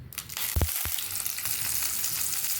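Green chillies sizzle and crackle in a tablespoon of hot oil for a peanut tomato chutney, with a steady loud frying hiss. A couple of sharp pops or spoon knocks come near the start.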